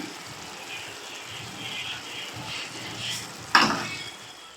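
Coconut oil goes into a pan of frying anchovy stir-fry (netholi peera), bringing a soft steady sizzle and a sudden sharp hiss burst near the end that quickly fades.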